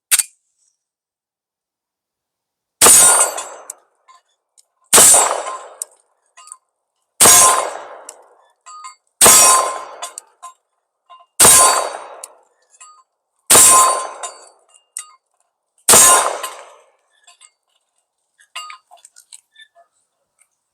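Seven .45 ACP pistol shots ring out at a steady pace of roughly one every two seconds, each a sharp loud crack with a brief ringing tail and a faint clink of the target, on an outdoor range.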